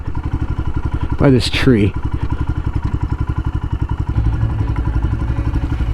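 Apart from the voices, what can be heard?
Royal Enfield Himalayan motorcycle engine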